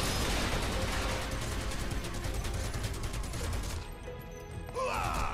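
Rapid gunfire hitting and breaking wooden crates in Final Fantasy VII Remake, a dense burst of shots for several seconds, then a brief lull and a final crash.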